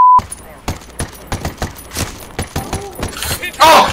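Rapid gunfire erupts from two sides in a Ghost Recon Wildlands firefight, sharp cracks and bursts crowding together, with a voice shouting briefly near the end.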